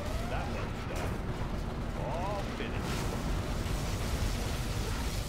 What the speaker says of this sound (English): Allied Scud Storm launched.